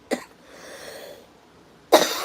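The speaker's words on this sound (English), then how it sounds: "I'm going to cough again, sorry." Two sharp, close coughs, one at the start and one near the end, separated by a soft breathy pause.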